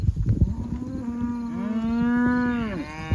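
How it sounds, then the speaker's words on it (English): Cows bawl for their calves during a drought-time cattle drive: a loud, drawn-out moo swells and falls away, close by, over faint background herd noise. "The cows are bawling. They're bawling for the calves."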